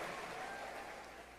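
A church congregation applauds in a steady, dense wash of clapping that fills the room for the whole moment, slightly fading toward the end.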